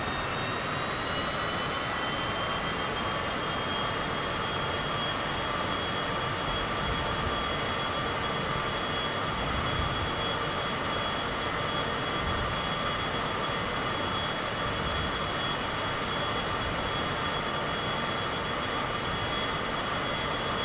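Steady, continuous jet engine roar from a Cessna Citation business jet flying in Microsoft Flight Simulator 2024 on Xbox, with a constant high whine over broad rumble, sustained and even throughout with no talking.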